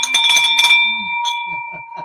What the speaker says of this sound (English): Let's ring that bell first and foremost.